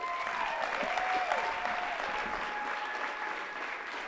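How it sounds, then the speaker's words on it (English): A university talks event audience applauds its speakers, dense steady clapping that fills the room at moderate loudness. "Please come back to the stage and we'll applaud you again."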